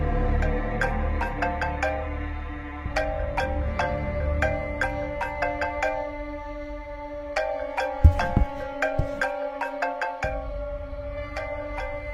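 A phone ringtone plays a repeating electronic melody of bright tonal notes for about twelve seconds, steady and fairly loud, with a few brief knocks near the end and no talk.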